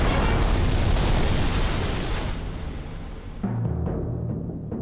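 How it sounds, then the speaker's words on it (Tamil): A Diwali firework rocket explodes in a Tamil film scene, giving a loud, sustained roaring blast that fades and then gives way to a lower rumbling aftermath. "அதான் விட்டேன் ஒரு தீபாவளி ராக்கெட்."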